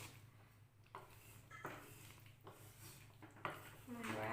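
Chicken being stirred in a pot for malai chicken, with several clinks and scrapes of a spoon against metal between quieter moments, ending in a rising bubbling simmer.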